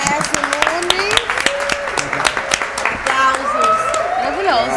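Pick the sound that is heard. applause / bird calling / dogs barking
applause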